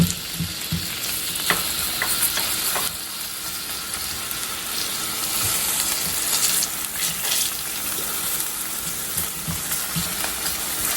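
Smoked sausage frying in a little cooking oil, a loud, steady, close sizzle with crackling and occasional stirring clatter running unbroken throughout.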